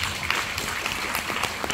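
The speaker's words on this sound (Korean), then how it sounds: "박수 한번 주십시오." Audience applause at a lecture on school violence and school police officers in Gwangju, a dense steady patter of clapping from a seated crowd, moderately loud and continuous throughout.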